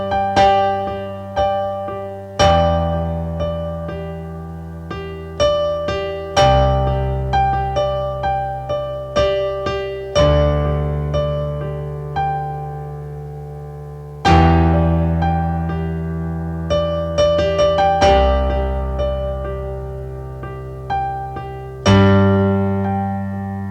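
Solo piano improvisation, struck chords and notes with a right-hand rhythm that shifts between quarter and eighth notes, ringing and decaying between attacks, close and clear with no voices.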